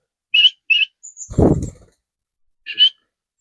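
Short bright chirps from pet doves come in pairs, then a brief rustling burst and another chirp, close and clear against a silent background.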